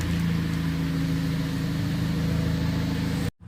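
A rebuilt Vauxhall Astra VXR engine runs steadily close by, a loud continuous throbbing idle with a rough edge, cutting off abruptly at the end.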